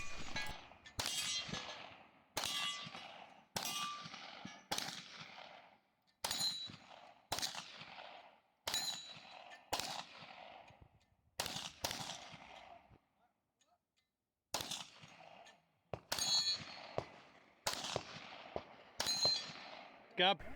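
Gunfire on a multigun stage with steel targets, sharp shots in quick strings separated by short pauses, each crack followed by ringing metallic clangs from struck steel, loud and close throughout.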